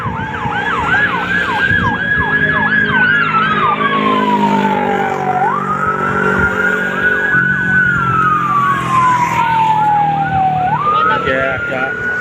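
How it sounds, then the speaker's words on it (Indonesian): An ambulance siren wails loudly, sweeping up and down repeatedly, with a second siren's rapid yelps layered over it, close by and continuous, at night on the Kenjeran Bridge in Surabaya. "Ya, ada ambulan lewat."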